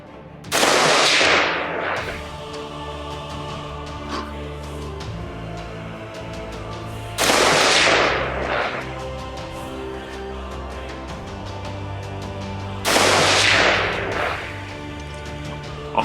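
A Daniel Defense DDM4V11 lightweight AR-15 rifle fires three sharp, loud single shots spaced several seconds apart. Each shot rings out briefly over a quiet outdoor background.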